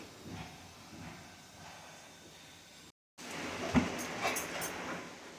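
Spinach boiling in a covered pot, a steady soft hiss of steam and bubbling, briefly cut off, then returning louder with a few sharp clinks and rattles near the end.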